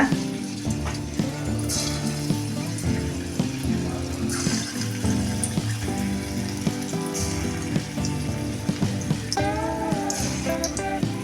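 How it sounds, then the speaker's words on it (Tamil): Small pinched pieces of idli batter frying in hot oil for evening snacks, a dense continuous sizzle and crackle with scattered pops throughout, fairly close and steady with no talk. "இப்போ மாவை கிள்ளி கிள்ளி எண்ணெயில் போட்டுக்கலாம்"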